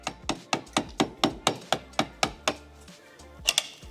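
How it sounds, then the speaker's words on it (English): Sharp, evenly spaced hammer blows knocking concrete out of a 2011 Audi A6 TDI, about a dozen in a fast rhythm, pausing briefly before two more hits. "we're just hammering concrete"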